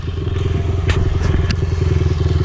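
A motorcycle engine idles in neutral up close, a loud, steady low-pitched chugging with an even, rapid pulse and a few light clicks and taps over it.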